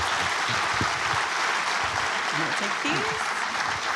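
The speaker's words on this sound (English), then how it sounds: "A round of applause for our Executive Director, Kristen." Steady, full applause from a crowd at a live onstage event, clapping continuously throughout with a few faint voices underneath.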